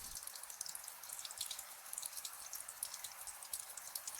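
Soft, steady trickle of water with scattered faint drips, even and continuous at low level, no voices.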